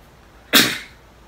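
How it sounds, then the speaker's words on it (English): One sharp, close sneeze from a person bursts out of quiet surroundings and fades quickly. "Oh, I sneezed 3 times."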